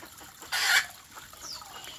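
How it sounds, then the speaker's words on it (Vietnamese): A farmyard hen and rooster give a single loud, sharp call up close, followed by fainter clucking and a short rising chirp against a quiet rural background. "mình nghe thấy nó gà trống gà mái nó kêu rồi mình chạy ra thấy"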